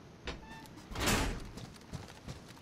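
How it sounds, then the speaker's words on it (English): Doors are shut in the survival game DayZ, a sliding scrape swelling into a heavy thud, with a few softer knocks and footsteps before and after. "I'll close these doors behind us."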